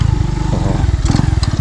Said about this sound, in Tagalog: pero daanan ko ng motor mga kayungit ko